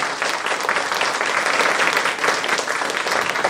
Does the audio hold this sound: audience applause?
yes